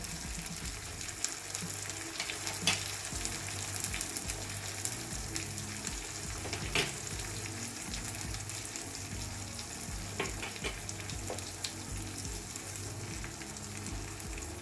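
Tomato paste and spices frying in a pan with mushrooms for a dry mushroom masala, with a steady sizzle throughout and occasional sharper clinks and scrapes of a spoon stirring the mixture, close and continuous without talk.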